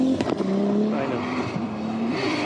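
A Nissan S15 drift car in Formula Drift Japan qualifying at Fuji International Speedway roars close by with a loud engine, then its tires squeal in a long, continuous skid.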